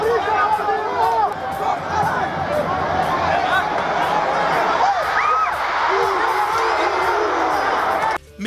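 Football fans in the stands shout and cheer, making a dense, lively crowd roar. Whoops and chatter overlap continuously throughout, then cut off abruptly at the end.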